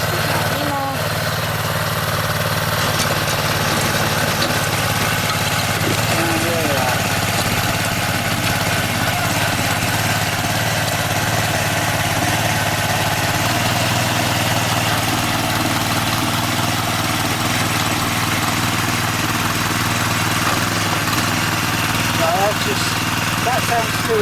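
A Honda FF500 rotavator engine runs steadily in first gear, a loud continuous drone that holds for the whole stretch with no pauses.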